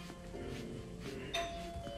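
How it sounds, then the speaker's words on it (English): A doorbell rings once with a bright two-tone chime in Marvel's Spider-Man: Miles Morales, heard over soft background music and room ambience. "That doorbell's been broken for years."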